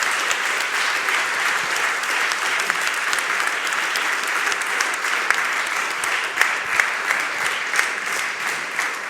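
Sustained audience applause fills the room at the close of a talk by a Michelin executive, steady dense clapping throughout with no break.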